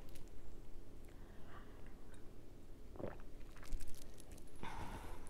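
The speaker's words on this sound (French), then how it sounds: "Je vais reprendre une gorgée d'eau." Water being sipped and swallowed close to the microphone, with soft mouth and gulping noises and small handling clicks spread over a few seconds in a quiet room.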